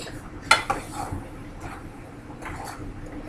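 Thick cookie dough is stirred with a wooden spoon in a bowl: a sharp knock against the bowl, then soft, dull scraping and squishing strokes at close range.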